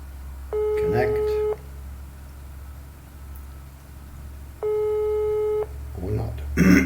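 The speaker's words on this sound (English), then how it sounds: "We hit the phone icon, you can hear it ringing" An internet phone call placed through WAM dialpad rings back with two long, even, tonal rings about four seconds apart, clear and steady, while someone talks quietly in the background.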